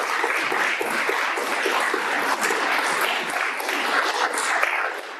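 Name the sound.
audience applause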